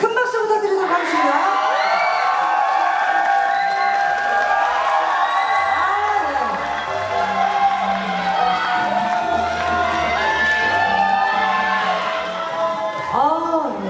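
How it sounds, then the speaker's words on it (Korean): A crowd at a K-pop concert in a live hall cheers, screams and whoops continuously at close range, with scattered applause beneath and voices shouting throughout. "자, 큰 박수 부탁드리도록 하겠습니다."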